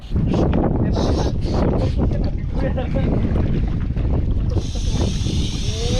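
A yacht's engine churns steadily under wind buffeting and water noise, with a brief higher whine near the end.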